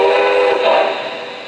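A Lionel Commodore Vanderbilt Hudson model train's TMCC steam whistle sounds in one loud, sustained, breathy chord, then fades slightly toward the end.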